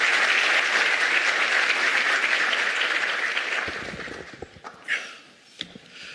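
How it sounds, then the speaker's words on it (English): Applause for a minister at a presidential science, technology and innovation plenary, a dense steady clapping from a large hall audience that thins out and fades into scattered claps toward the end. "A round of applause for the Minister"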